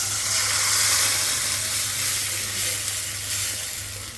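Vegetables sizzle and fry steadily in a hot pan at home, a continuous bright hissing crackle held close and even for several seconds, with a low steady hum beneath.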